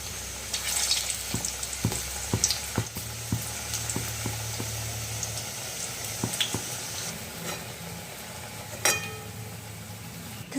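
Alu vadi, colocasia leaf rolls, frying crisp in hot oil, a steady close sizzle broken by small clicks and pops of handling, with a low hum in the first half.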